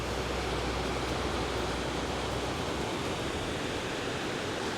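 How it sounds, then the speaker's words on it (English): Rough river in the Lyngen Alps rushing steadily nearby, a dense, continuous broadband roar of turbulent water with no pauses, loud and unbroken throughout. "Down by the river, and the river looks rough."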